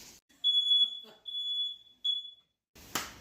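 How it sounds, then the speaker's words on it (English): A smoke detector goes off indoors after steaks were cooked on a Philips smokeless indoor grill, sounding a few short, shrill electronic beeps separated by pauses, followed by a brief burst of noise. "after we took our steaks off, the smoke detector did go off because we did get a bit of smoke"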